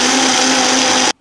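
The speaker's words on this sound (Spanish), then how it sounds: "vamos a licuar y es todo lo que tenemos que hacer" A kitchen blender whirs loudly and steadily, blending a plant-based detox smoothie sweetened with dates, a constant high motor roar that cuts off abruptly near the end.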